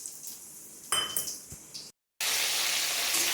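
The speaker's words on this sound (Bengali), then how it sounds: "ঝোলের ফোড়নের জন্য দিয়ে দিলাম তেলেতে 5 ফোড়ন।" Five-spice seeds hit hot oil in a pan for a thin fish curry, crackling and clinking briefly, then after a short silence a loud, steady sizzle fills the close-up kitchen sound.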